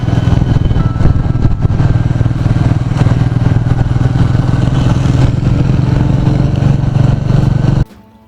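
A 2020 Royal Enfield Meteor with a 350cc single-cylinder engine runs with a steady, loud, thumping rumble and a light clatter, then cuts off abruptly near the end.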